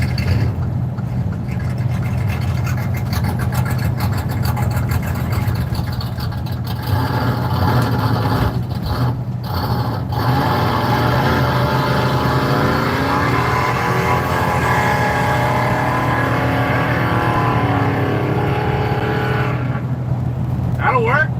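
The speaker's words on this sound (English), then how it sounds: "Brand new traded 1940 Chevy. Big block power." A 1940 Chevy's big-block engine rumbles loudly and steadily throughout, a deep low drone with a constant whirring roar, while voices talk over it.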